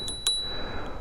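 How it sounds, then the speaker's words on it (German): A small handlebar bell on an Isinwheel E9 electric scooter gives two quick, light pings close by, then falls quiet. "ansonsten haben wir hier eine Klingel"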